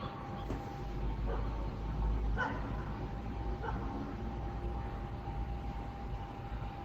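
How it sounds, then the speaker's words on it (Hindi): Dogs bark from somewhere below, several short yelping barks rising faintly over a constant low hum and steady background noise. "कुत्ते भौंक रहे हैं नीचे।"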